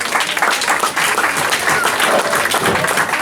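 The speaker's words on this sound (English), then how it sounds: "Let's give him a warm round of applause for Aparitia." Steady, dense applause from a crowd, loud and sustained throughout with no pauses.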